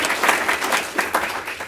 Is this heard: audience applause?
yes